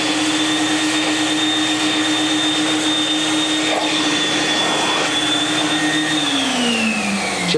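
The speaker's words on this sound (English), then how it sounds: "I'm going to vacuum this off real quickly." A vacuum cleaner runs steadily on a light blue stain-resistant carpet, a loud continuous whine with a constant motor tone that drops in pitch near the end, with no talking.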